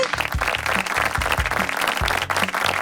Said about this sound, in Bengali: জোরে একটি করতালি হয়ে যাক তাহলে